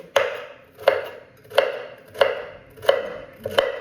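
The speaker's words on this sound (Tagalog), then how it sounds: "Ngayon ay mag-chop na lang ako ng mga pagkain niya na kailangan luto." Food being chopped on a cutting board before cooking, with six evenly spaced, crisp knife thuds about every 0.7 seconds, near and clear with no one talking.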